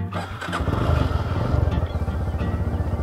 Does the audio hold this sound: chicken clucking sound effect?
no